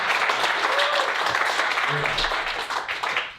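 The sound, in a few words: audience clapping for comedian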